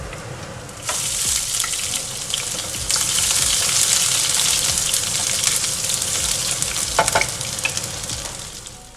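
Upperi, a fried snack, sizzles loudly and steadily in hot oil in a pan, a continuous hissing crackle that swells after the first second and holds with small pops.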